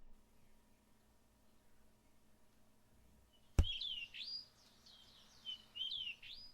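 Birds on the quiet island of Iwo Jima chirp and trill in short, bright phrases after a sharp knock, with several separate calls spaced over a faint, still background.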